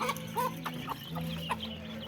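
Several chickens cluck close by in short, repeated bursts, with a low steady hum underneath and no talking.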